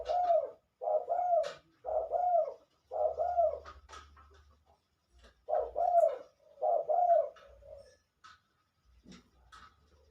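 A bird locally called bak saen saep gives a series of about eight deep, hollow coos in a steady rhythm, close and clear against a quiet background, followed by a faint lower sound.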